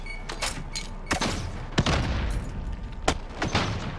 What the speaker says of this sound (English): Sounds like an automatic to me.